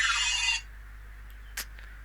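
A short, bright electronic alert tone from a live trading platform sounds for about half a second, then cuts to near silence with one faint click afterward.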